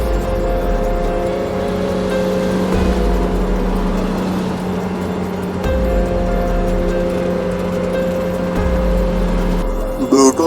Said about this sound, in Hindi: वो अपना ट्रैक्टर लेकर आ जाता है